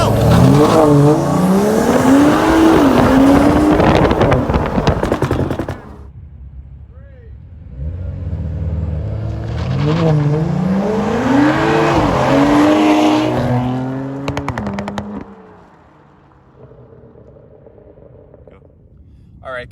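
A fully bolt-on BMW 435i and a stock BMW M4 launch side by side from a countdown, engines roaring hard through rising revs and gear shifts, then easing off and fading to a low idle near the end.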